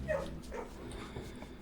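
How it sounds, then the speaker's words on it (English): A puppy in the video game Blue Prince gives a short, high whimpering yip when petted, followed by soft, faint whines. "Oh, pet the puppy."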